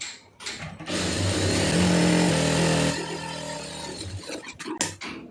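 A sewing machine stitches a sleeve during home tailoring, its motor whirring in a steady, fairly loud run of about two seconds before stopping, followed by light handling clatter.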